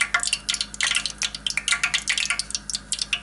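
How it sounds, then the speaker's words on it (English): Pennsylvania Dutch funnel cake batter is poured into hot frying oil, producing close, irregular crackling and spattering bursts that keep going without talk. "we're going to pour the funnel cake mixture, again starting from the center"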